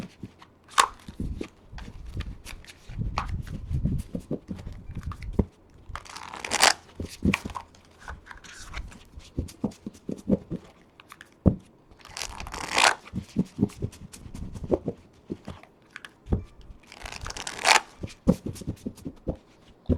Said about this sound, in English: little bit harder to shuffle because they're so new